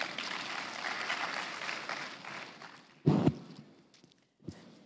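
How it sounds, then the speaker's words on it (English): Large audience clapping at a Safaricom tech conference: sustained applause from a big crowd that tapers off over several seconds, then a couple of loud close thumps near the microphone. "Clap for yourselves."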